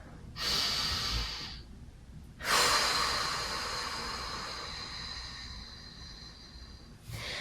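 Deep breaths taken during a mat Pilates stretch, close and soft. One long inhale is followed by a longer exhale that slowly fades, and another breath starts at the end.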